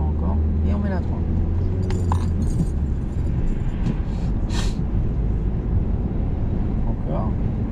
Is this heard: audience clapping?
no